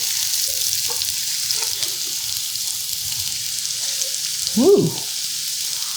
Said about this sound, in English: we're going to saute these until they're translucent